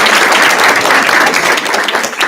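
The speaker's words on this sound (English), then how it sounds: "yeah, you can clap" A loud, close burst of audience clapping at a county board of education meeting, dense and steady throughout before thinning slightly at the end.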